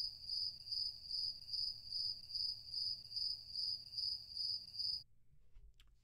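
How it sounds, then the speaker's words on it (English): A cricket sound effect: roughly a dozen evenly spaced, shrill chirps pulse steadily and fairly close, then stop abruptly after about five seconds, leaving near silence. "Crickets."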